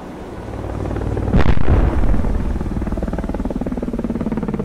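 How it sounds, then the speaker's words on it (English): A missile fires from a warship's gun-missile system in a naval combat game, a loud sudden whooshing blast that swells and then trails off into a rumbling roar as it streaks away. "Fire missile."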